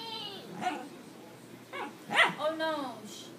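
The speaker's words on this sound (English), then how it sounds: "Barking." A dog barks and yips a few times in short bursts, close by and fairly loud, with whimpering pitch swoops between barks and people talking in the background.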